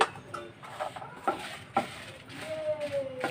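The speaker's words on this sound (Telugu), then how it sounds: "ఎండుమిర్చి కూడా బాగా వేయించేసుకుందాం" Dried red chillies roasting in a dry pan for coconut chutney give a quiet, uneven crackle and sizzle, with a few soft scrapes and stirring knocks spread through the clip and no voices.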